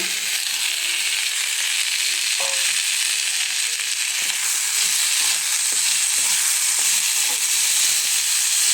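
Raw banana pieces fry with onions in a pan, giving a strong continuous close sizzle and hiss with occasional stirring clicks, with no talking.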